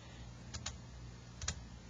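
Keys pressed on a graphing calculator while entering answer choices, a few faint separate clicks in two quick pairs over a quiet hiss.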